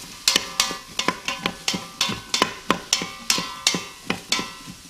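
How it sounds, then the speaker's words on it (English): Rhythmic scraping and clinking of a utensil stirring chicken noodle soup ingredients in a pot, about a dozen evenly spaced sharp strokes, close and clear with no talk. "I'm going to give this a nice stir."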